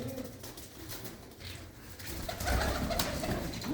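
A red Cheena pigeon coos softly, low rounded calls building toward the end, with a faint bird call and light ambient noise, no voices.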